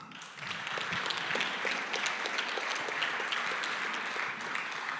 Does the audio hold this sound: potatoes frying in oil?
no